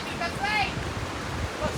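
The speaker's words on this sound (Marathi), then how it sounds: "असं जीव घेणं प्रवास करत करत आम्ही मांडवकाडा धबधबा बघायला आलोय" Mandavkada waterfall heard from the trail: a steady, broad roar of rushing water fills the scene, with faint voices mixed in.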